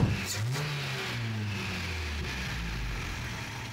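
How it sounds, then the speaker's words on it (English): A Toyota 22RE four-cylinder truck engine running a Haltech ECU revs up and falls back, close and steady, with the throttle blipped a couple of times over a rumbling idle. "let's take a look at listen to how the engine sounds"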